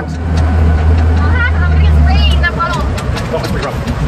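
A six-wheel-drive Pinzgauer rumbles steadily off-road, its engine drone loud and close throughout, with rough jolts as it handles the terrain while people talk over it.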